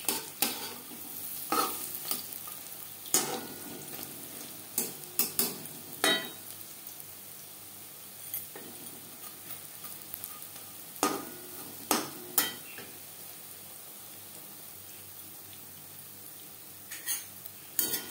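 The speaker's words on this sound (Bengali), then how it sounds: "পাকোড়া ক্রিস্পি করে ভাজা হয়ে গেছে।" Besan curry pakoras fry in oil with a soft, steady sizzle, broken by repeated clinks and scrapes of a metal spoon or slotted ladle against the pan.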